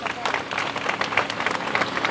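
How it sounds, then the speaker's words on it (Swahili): Crowd applause at an outdoor public road-project inauguration ceremony, a dense, moderately loud patter of many hands clapping steadily, mixed with crowd voices. "Naomba tuwapigie makofi mengi sana."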